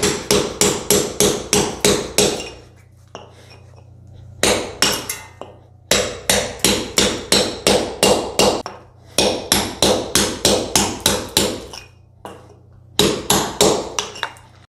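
Hammer striking a chisel against a concrete basement wall in fast bursts of sharp, ringing metallic blows, about six to eight hits per burst with short pauses between, loud and close.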